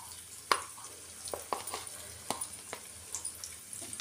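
Paneer deep-frying in oil gives a faint, close sizzle broken by soft irregular taps and stirring clicks, with a few sharper spatters scattered through.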